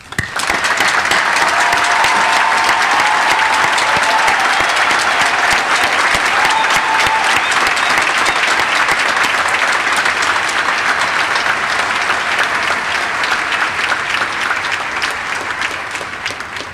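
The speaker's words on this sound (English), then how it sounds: "that's a round of applause." Long, sustained applause from a large audience at a university graduation ceremony after qualifications are awarded, a dense, even roar of clapping that holds steady and begins to fade near the end.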